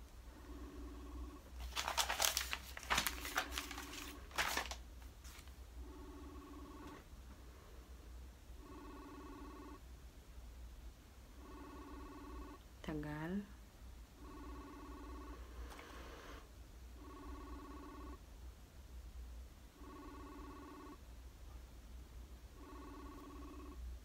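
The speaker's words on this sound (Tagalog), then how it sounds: "Tawagan ko si Liza Soriano. Nagreng." Phone call ringback tone repeats as evenly spaced double beeps, faint and steady, after a brief burst of handling noise at the start.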